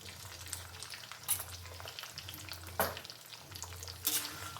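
Green chillies and lentils fry in oil with a soft, continuous sizzle, broken by a few louder scraping stirs of a spoon in the pan, close and without talking.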